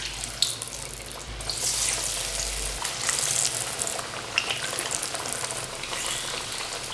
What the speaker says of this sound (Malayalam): ബാക്കിയുള്ളതും കൂടെ ഇതുപോലെ ഫ്രൈ ചെയ്തെടുക്കാം.